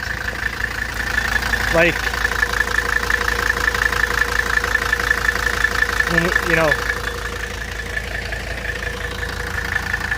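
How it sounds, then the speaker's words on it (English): A Mercedes 300TD W123 with the OM617 five-cylinder diesel idles nearby with a steady, thumpy, knocking rhythm, while people talk briefly over it. "it's a 5-cylinder, so it's gonna have a little bit of a thumpy idle"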